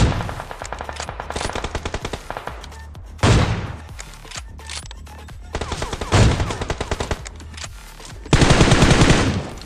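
Gunfire from an AWM sniper rifle in the BGMI battle-royale game: loud, close shots arrive in several sharp clusters with brief gaps between them, and no voices are present.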